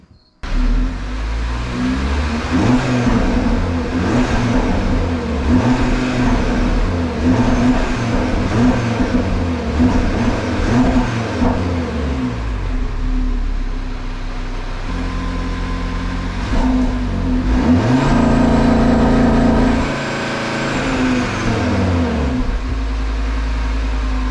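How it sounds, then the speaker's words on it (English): A 2018 Audi RS3 with its stock intake revs loudly and repeatedly, the engine note rising and falling in rhythmic bursts, then settling and climbing into one long high rev before dropping back to a steady run, close and without talk. "Stock intake revs and runs."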